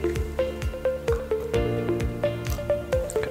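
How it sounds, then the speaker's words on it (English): Blk Water pours from a bottle into a cup, with a rhythmic run of close, gurgling glugs and liquid splashes repeating steadily. "So here I have two cups where we're going to pour the Blk Water"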